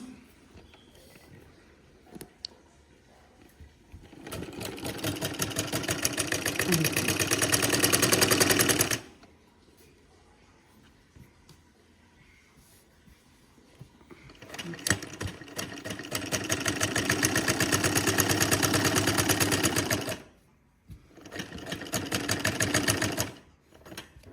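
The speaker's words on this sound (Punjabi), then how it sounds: "ਇਹ ਹੁਣ ਆਪਾਂ ਨੇ ਸਟਿਚਿੰਗ ਕਰਨੀ ਹੈ ਇਹ ਵੀ ਉਸੇ ਤਰ੍ਹਾਂ ਹੀ ਕਰਨੀ ਹੈ" A sewing machine stitches stretchy glove fabric in two long runs and a shorter third burst of fast, steady mechanical ticking, separated by near-quiet pauses.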